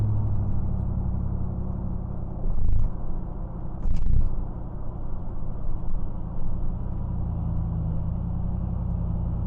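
An old car rumbles at a steady low drone from inside the cabin, with a couple of brief bumps or thuds partway through and no talking.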